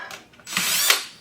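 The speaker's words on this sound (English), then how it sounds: "So I gotta basically drill through all of that." A power drill boring through a cowboy boot sole packed with a nail and a metal washer, giving a short rising whine that grinds briefly and then stops, close up.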